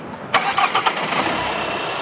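The diesel engine of a Kia Carens cranks and catches with a few quick rough bursts, then settles into a steady close idle rumble, with no talk over it.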